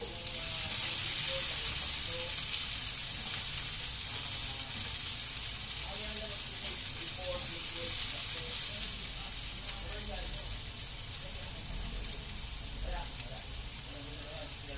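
Onions sizzle steadily in a hot pan, a continuous bright crackling hiss with occasional stirring scrapes, fairly close and alone without talk.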